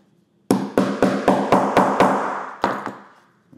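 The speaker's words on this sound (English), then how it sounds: "I'm gonna grab my tool again, and I'm gonna hammer" A hand tool is hammered onto snap fasteners on a sewing project: about nine sharp, loud, close knocks come in a quick, even rhythm, with a short pause before the last blows.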